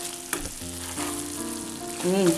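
Bilimbi pickle crackles in a hot pan as asafoetida is stirred in, a steady frying sizzle with a few sharp scrapes of the spoon, close and moderately loud without voices.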